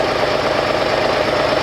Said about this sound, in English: I'm going to rev up the engine a few times, and I want you to have the video at the exhaust pipes